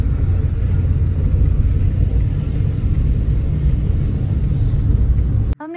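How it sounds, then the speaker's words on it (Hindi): A car's engine and road rumble hum steadily from inside the cabin while it is driven to a parking spot, loud and continuous, then cut off abruptly near the end. "हमने गाड़ी पार्क कर लिया"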